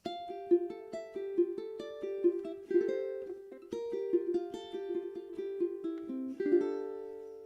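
A ukulele is plucked fingerstyle through a quick, flowing run of changing chords, bright and close, with no voices.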